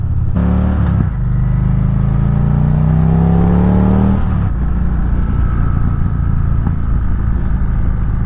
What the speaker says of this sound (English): There's some nice backfire to this exhaust